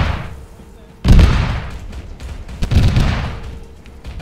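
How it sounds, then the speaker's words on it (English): Two heavy booming explosions, the first sudden and loud, the second following a second and a half later, each rumbling away into a noisy background. "A lot of explosions everywhere."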